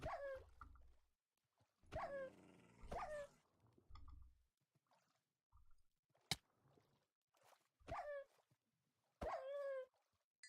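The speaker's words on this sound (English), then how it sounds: "Yeah, wolf." A wolf in the Minecraft video game yips, whimpers and barks in short separated bursts between quiet gaps, fairly close and clear.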